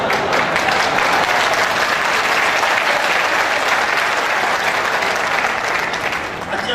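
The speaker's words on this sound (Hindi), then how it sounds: "आप ये बताइए तालियां क्यों बजा रहे हैं?" Loud, sustained applause from a seated audience at a Meerut success day event fills the room evenly throughout, a dense wash of many hands clapping at once with no pauses.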